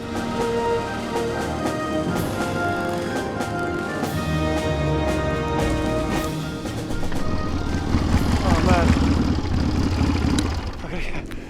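A motorcycle engine runs at steady constant throttle before a ring-of-fire jump stunt, its rumble continuous and fairly close, rising slightly toward the end, with people talking over it.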